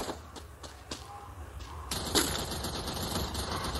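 Rapid video game gunfire crackles in quick bursts of sharp shots during the first two seconds, followed by a denser, steady stretch of game noise.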